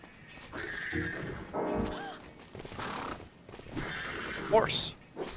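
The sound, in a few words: horse neighing in the video game Withering Rooms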